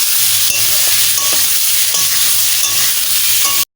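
Chunks of elephant foot yam with salt and turmeric fry loudly in a pan, a dense close sizzle with repeated scraping stirs of a spatula, no voices, cutting off abruptly at the end.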